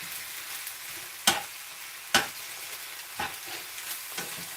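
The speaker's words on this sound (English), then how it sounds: "So I'm going to give this a real quick sear" Marinated meat coated in red Thai curry paste and lemongrass sears in a hot pan over gas rings, a steady high sizzle broken by four sharp clattering scrapes of stirring, close and without talk.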